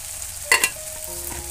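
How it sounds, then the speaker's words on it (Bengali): Spice masala being stirred and fried in a pan for baingan bharta, with two quick scraping stirs over a steady low sizzle of oil. "আরও কিছুক্ষণ মশলাটাকে আমি কষিয়ে নেব।"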